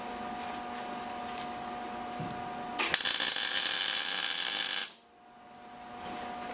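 A car door pillar being tack welded under a quiet background hum, then a loud harsh buzzing crackle lasting about two seconds and cutting off abruptly.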